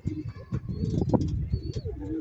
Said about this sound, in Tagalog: Makikita natin to mga kaibon kapag dumapo na dito sa ating landing board o landing screen.